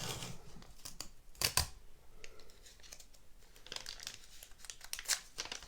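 Tape being pulled and laid down while decorating a Christmas tree, heard as bursts of ripping and crinkling spread across the stretch, each sharp and close, with quieter handling noise in between.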